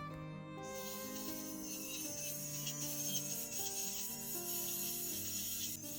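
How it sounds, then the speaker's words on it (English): A small grinding disc on a rotary tool works the inside of two David Yurman cable rings during sizing, giving a steady, close whine with a continuous gritty rasp and no talk. "to a smaller grinding disc, one that can easily fit inside the ring"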